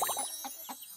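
A cartoon chicken clucks in a quick series of short, bright, close calls over a steady background hiss, with no talking.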